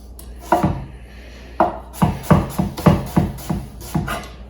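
A chef's knife chops onions into rustic chunks on a cutting board: close, crisp thuds, a few spaced strikes, then a quick steady run of chops.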